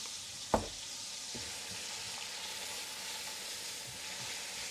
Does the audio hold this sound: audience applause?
no